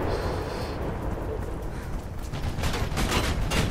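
Gunfire in the Mirror's Edge video game crackles in bursts of sharp shots over a constant roaring background, growing louder and more rapid toward the end.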